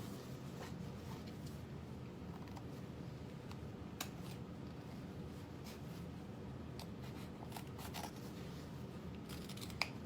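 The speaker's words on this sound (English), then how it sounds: "And then we're going to cut into it." Scissors snip into fabric while a freesia foldover is sewn, giving faint, crisp close-up cuts in an irregular series against a quiet background.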